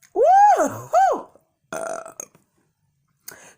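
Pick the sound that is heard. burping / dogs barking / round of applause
burping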